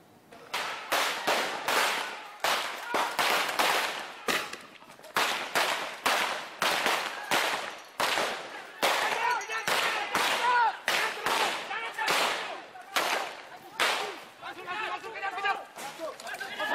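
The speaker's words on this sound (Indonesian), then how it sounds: "tembakan peringatan serta gas air mata terus dilepaskan petugas guna menghalau massa" Police fire a long series of sharp, loud warning shots and tear gas launches to disperse a rioting crowd in Sorong, Indonesia, with the bangs coming in rapid irregular bursts and voices underneath.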